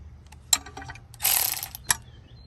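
Ratcheting wrench clicks while removing 13mm bolts from a subwoofer holder in a 2021 Ford F-150 Tremor, a few sharp metallic ticks and a short rattling burst, close but fairly quiet.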